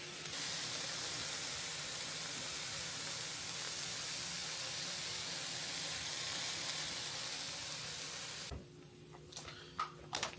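A thick Jucy Lucy burger sears in a hot pan with loud, steady broadband sizzling and steaming hiss for about eight seconds, then the sizzle drops away abruptly, leaving a few faint clicks and clatters.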